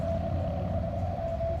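Ham radio QRM interference, a steady droning electrical hum with a fixed tonal whine held over a low rumbling noise floor, continuous and fairly faint throughout with no talking.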